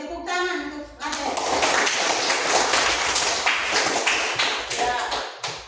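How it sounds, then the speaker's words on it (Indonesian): Classroom applause for a student, a burst of many hands clapping close by that continues steadily for several seconds after a brief voice at the start. "Tepuk tangan untuk Ade."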